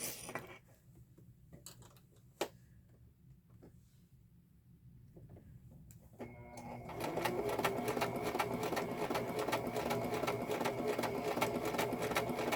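Sewing machine stitching fabric for a lace and leather heart, a few isolated clicks and single stitches at first, then a loud steady run of rapid mechanical whirring and needle chatter from about seven seconds on.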